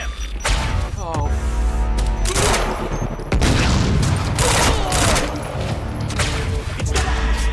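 Frag grenade blasts and heavy gunfire in the shooter game Quantum Break, a loud, dense stretch of overlapping bursts and booms with sharp hits standing out around each second mark, and no break in the noise.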